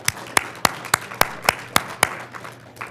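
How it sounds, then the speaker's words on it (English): Clapping at a business insurance group's annual meeting, heard as a handful of sharp, evenly spaced claps, fairly close and sparse rather than a full crowd, trailing off after about two seconds. "please stand up so we can give them a nice round of applause"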